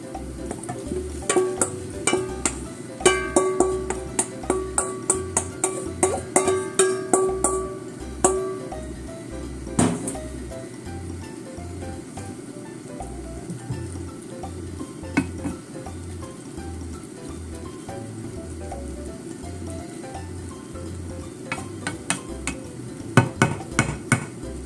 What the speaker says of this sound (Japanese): 卵を入れます。